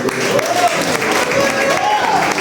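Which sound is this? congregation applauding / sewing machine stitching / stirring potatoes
congregation applauding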